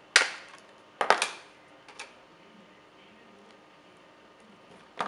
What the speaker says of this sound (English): I'm going to open this bag and I'm going to place my phone.